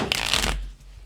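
A deck of playing cards is riffled in a quick, close burst of dense flapping during a tabletop game with friends, fading out within about half a second.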